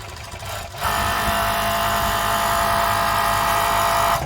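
A Pegasus E256 interlock sewing machine starts up after a brief quiet moment and runs steadily at high speed, a loud continuous mechanical whir with no pauses and no talking.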